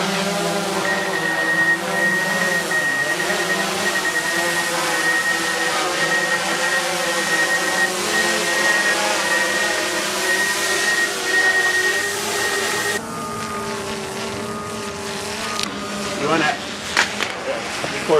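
A drone hovers and climbs overhead, a loud, steady buzzing whine with a wavering tone that drops to a lower, muffled hum partway through, with a few faint clunks of handling near the end.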